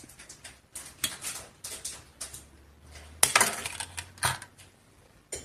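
Copper wire being cut with a sharp snip while making a heart-shaped wire base, heard among scattered small metallic clicks and handling taps, with one louder crisp cut standing out near the middle.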